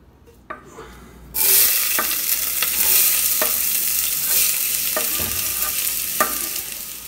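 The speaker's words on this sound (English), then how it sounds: "Saute your onions for about 5 to 10 minutes" Onions sautéing in coconut oil in a pot for chana masala: a sudden loud sizzle bursts in and holds steady, with occasional utensil taps and stirring scrapes.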